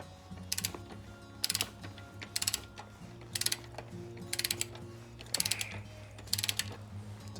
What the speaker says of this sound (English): We're going to remove the nut and the washer and this adjuster plate.